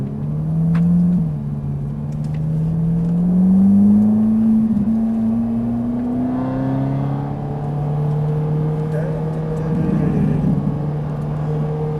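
A Ferrari 458 Italia engine hums and rises in pitch as it accelerates from first gear, a steady close drone climbing smoothly, then settling before revving again.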